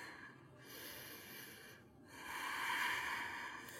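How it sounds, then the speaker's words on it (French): Two deep breaths during a yoga session of ab and core work, heard as slow, soft airy inhales and exhales close to the microphone, with a short pause between them. "Deux grandes respirations."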